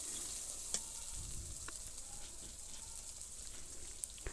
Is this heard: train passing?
no